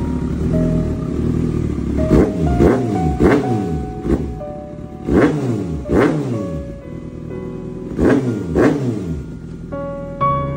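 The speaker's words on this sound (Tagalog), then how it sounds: "Huling rev bomb, Yume." A stock car engine is revved hard in a series of sharp throttle blips, roughly a dozen bursts spaced about a second apart, each rising and falling over a steady loud idle, close and clear with no talk.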